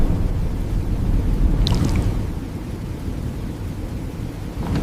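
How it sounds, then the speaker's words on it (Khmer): Heavy downpour in an animated cartoon, a loud, low rumbling rush of rain with thunder-like depth and wind, steady throughout with a brief brighter patter midway. "ភ្លៀងបានធ្លាក់មកយ៉ាងខ្លាំងដូចគេចាក់ទឹក"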